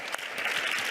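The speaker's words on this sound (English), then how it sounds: "you can applaud" Audience applause at a talk on positive masculinities and gender inequality, a brief steady wash of many hands clapping together, fairly loud and continuous for under a second.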